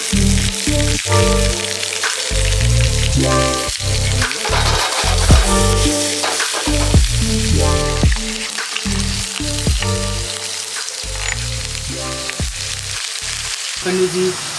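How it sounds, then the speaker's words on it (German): Dried fish frying in hot oil in a Sri Lankan kitchen, a steady close crackling sizzle with pulsing bursts of bubbling, loud and continuous throughout. "Sie sind getrocknet, aber werden nochmal frittiert"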